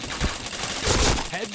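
Video game gunfire in a multiplayer shooter: a few quick pistol-style shots with a burst near the middle, fairly loud against game ambience, no talk during the shots.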